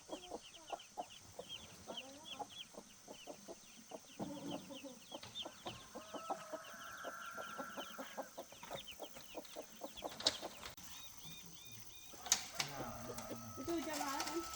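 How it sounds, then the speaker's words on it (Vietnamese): Chickens cluck around a rural house in a forest area, a quick run of faint pecking clucks with occasional calls, while people talk over them in the foreground. "Mà chắc cả gà đây."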